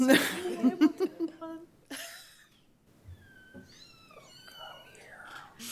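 A young stray kitten, one of a litter found at a roadside, lets out a few drawn-out meows after some soft breathy voice sounds and whispering, fairly close and indoors.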